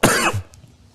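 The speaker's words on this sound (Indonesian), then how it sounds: "di saat penjelasan mungkin saya masih ada batuk-batuk" A single short, sharp cough from a man giving a religious lecture, close to the microphone, followed by quiet room tone.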